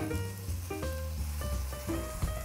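Raw beef mince drops into a pan of frying vegetables for a stout beef chili, producing a steady, close sizzle that continues throughout alongside soft background music.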